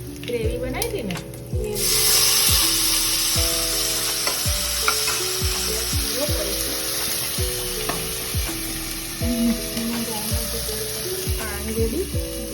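Gravy of tomato and onion for chole frying in a pan, a loud close sizzle that swells after a moment, with repeated scraping stirs, under background music.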